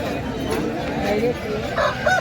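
A native country rooster crows at a busy village poultry market where roosters are sold, a single harmonic crow rising near the end over steady crowd chatter and background noise.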